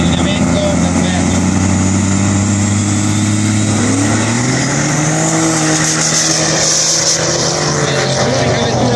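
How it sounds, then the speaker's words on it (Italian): A heavy diesel pickup truck accelerating hard off the line at a drag race, a loud engine roar rising in pitch through a gear change, with a commentator talking over it. "L'unica vettura diesel in gara, credo, guardate la potenza di quel pick up pesantissimo da muovere."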